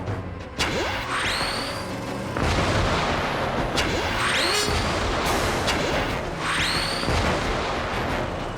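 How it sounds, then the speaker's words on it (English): Gunfire rings out in the Cadillacs and Dinosaurs cartoon: three or four loud, booming blasts come at spaced intervals, each with a sweeping whoosh, over a constant roaring vehicle chase. "He's gonna shoot again."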